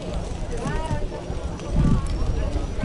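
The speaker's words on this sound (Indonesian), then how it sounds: "Inilah pasangan sapi Malaikat Sirkuit berasal dari Parende." Rapid hoofbeats of a racing bull pair thud past on a village track during a cattle race, amid crowd noise, with a voice speaking excitedly over the running animals.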